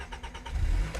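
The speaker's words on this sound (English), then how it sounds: "as you guys hear that legendary H22 purr" Honda Prelude Type SH with its H22 engine and 5-speed manual runs close by, a low rumbling engine note that swells briefly, heard alone for about a second.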